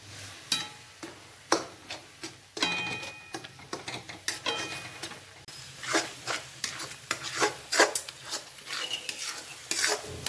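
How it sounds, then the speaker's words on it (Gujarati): Herbal Ayurvedic chutney fries in a pan as the water cooks off, with a soft sizzle under sharp, rhythmic taps and scrapes of a spoon stirring against the pan. "હજી આપણે આને તળવા જ દેવાનું છે ફર્સ્ટ ક્લાસ"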